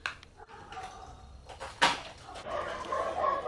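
Dogs barking and yipping in short scattered bursts as their meal is brought, one sharp bark standing out, with household clatter and a faint voice in the background.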